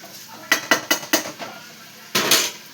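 Metal clinks and clatters as a lid goes onto a cooking pot of onion, tomato and turmeric: a quick run of five or six sharp taps, then one louder settling clank, close in a quiet kitchen.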